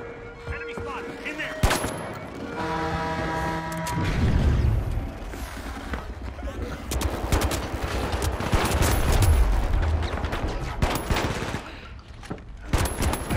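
Gunfire and explosive blasts in the arena shooter THE FINALS, loud bursts and booms mixed with sharp crashes and game effects, sustained across the whole stretch.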